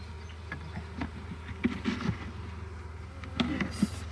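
Honeybees from a swarmed beehive being split into new colonies drone in a low, steady buzz close by. Individual bees flying past add louder passes, and some handling noises can be heard.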